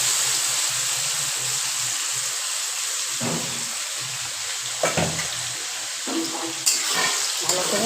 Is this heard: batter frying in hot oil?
yes